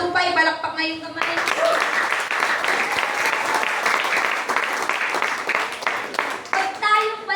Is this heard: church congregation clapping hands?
yes